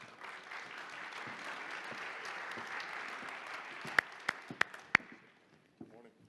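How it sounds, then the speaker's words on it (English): Conference audience applause for an incoming speaker, a broad, moderately loud wash of clapping that thins out into a few sharp, isolated claps near the end before fading to near silence. "Please, a big round of applause."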